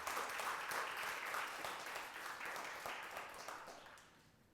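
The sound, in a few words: applause in church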